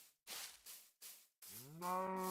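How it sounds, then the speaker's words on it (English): A cow in Minecraft lets out a long, clear moo near the end, after a few short breathy grunts separated by silences. "There's 2 cows right there."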